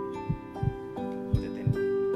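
Heartbeat sound effect in a Thai drama, four low thumps in two double-beat pairs with a steady musical drone underneath, fairly quiet.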